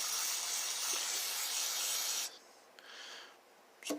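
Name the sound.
spraying cleaner through nozzle to back flush chainsaw part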